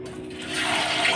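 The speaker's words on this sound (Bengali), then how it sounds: "চলো বন্ধুরা মাছটা তেলে দিয়ে দিই" Fish dropped into hot cooking oil in a home kitchen, a broad steady sizzle that swells and holds, close and fairly loud with no talk over it.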